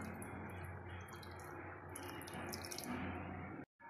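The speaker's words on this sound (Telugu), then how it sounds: "మనం చింతపండు రసాన్ని వేసేసుకుందాం." Tamarind juice pours steadily into a pot of Andhra-style fish curry, a continuous close watery splash and trickle that runs unbroken for several seconds before stopping abruptly.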